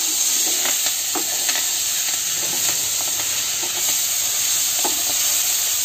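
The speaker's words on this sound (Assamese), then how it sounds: "এতিয়া অলপমান ভাজি থাকিম" Chopped leafy greens frying in a pan, a loud, steady, hissing sizzle heard close up for several seconds, with a few faint scrapes and pops over it and no voices.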